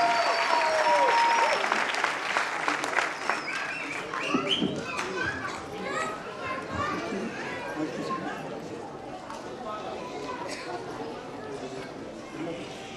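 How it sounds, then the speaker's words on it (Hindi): Congregation at a church blessing meeting clapping loudly, a dense burst of applause that peaks early and then thins out, with voices and chatter mixed in throughout. "ये हमारे कांग्रेस के जोर से ताली बजाएंगे ना विदाउट कंजूसी"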